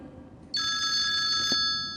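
A telephone rings once for a viewer calling in to an interactive TV health show, a steady electronic ring of about one second, clear and fairly close over quiet background hiss.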